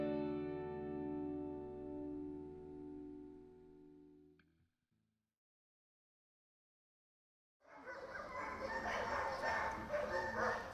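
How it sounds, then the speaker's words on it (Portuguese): A male puppy yips and whimpers in high, close, tonal bursts, then goes silent before a loud stretch of broadband noise takes over. "esse é um filhote macho"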